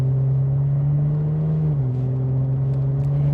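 A supercharged 2017 Holden VF SV6 engine growls with a deep, steady low rumble, holding one pitch before dipping slightly, loud and close with no talk over it.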